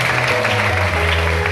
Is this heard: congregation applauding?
yes